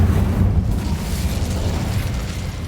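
A loud, sustained fiery whoosh and rumble from the Incendio fire spell in Hogwarts Legacy, a dense burst of flame noise with no voices.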